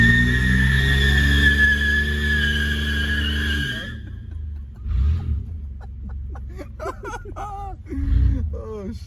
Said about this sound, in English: Do a fat ass burnout.